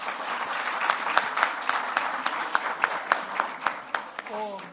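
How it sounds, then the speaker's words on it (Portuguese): Applause from an audience at an industry panel event in Brazil, a steady crowd clap with a few sharp accented claps standing out, and a voice briefly starting to speak at the end. "Palmas para Arthur."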